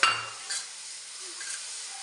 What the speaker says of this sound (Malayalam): എന്നിട്ട് നന്നായിട്ടൊന്നുകൂടെ മിക്സ് ചെയ്യാം.